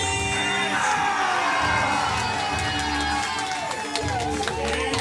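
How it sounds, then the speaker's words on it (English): A studio audience cheers and whoops as players are brought onto the stage of a game-show event, a loud, sustained crowd roar with music-like tones running throughout and no clear break. "Let's keep those applause going as we bring your players to the stage."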